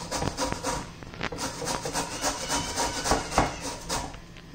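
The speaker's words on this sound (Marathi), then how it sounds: "हा सर्व भोपळा मी असं किसून घेते" Bottle gourd (dudhi) grated by hand on a kitchen grater, making soft, irregular scraping and rubbing strokes at a steady pace, fairly quiet and close, with no talking.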